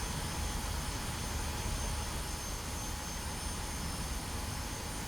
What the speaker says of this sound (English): an F5 just took off